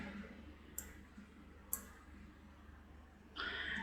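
Two crisp, close computer mouse clicks a second apart over a quiet room hum, followed by a brief rustle at the end.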